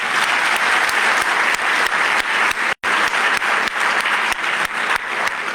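A large audience at an investment conference in Botswana claps in a thick, steady wave of applause that fills the room evenly, with only a momentary break in the middle.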